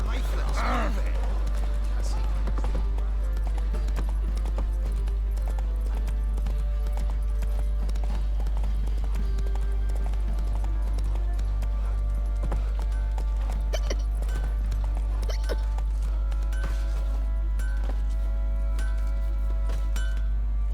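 Roach, the horse in The Witcher 3, gallops with a steady stream of hoofbeats over a low constant rumble, while characters talk over the ride.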